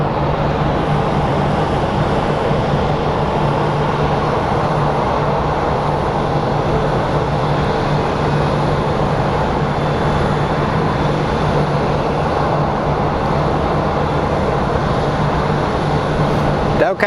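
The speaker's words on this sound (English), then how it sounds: "Up next is SkyWest 4811 going to San Francisco." A SkyWest airliner at Phoenix Sky Harbor airport gives a steady, loud engine roar with a low droning hum that holds evenly for the whole stretch, without any clear build or fade.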